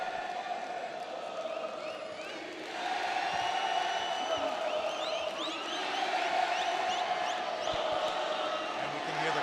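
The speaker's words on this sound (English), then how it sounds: "Crowd just going crazy for Diego." A boxing crowd cheers and roars for Diego Piovesan, a dense, loud wall of voices with whoops and yells that swells louder partway through and stays steady to the end.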